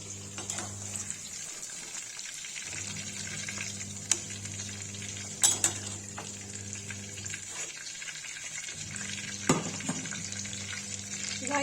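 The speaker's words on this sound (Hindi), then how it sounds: "गाइस देखिए लौकी फ्राई होगी" Pieces of bottle gourd (lauki) fry in oil with a continuous close sizzle over a low hum. A few sharp clinks from utensils break through now and then, and no one speaks.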